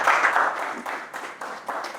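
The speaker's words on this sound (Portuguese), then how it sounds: "Aplausos, por favor." Conference audience applauding a speaker's introduction, a steady wash of many hands clapping at moderate loudness from start to finish, with no talking over it.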